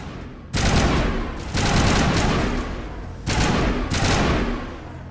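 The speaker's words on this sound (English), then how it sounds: "And these assault rifles aren't exactly very accurate. But do pack a good punch" Assault rifle fire in the Mass Effect game, loud sustained bursts of rapid shots in three long runs separated by brief gaps.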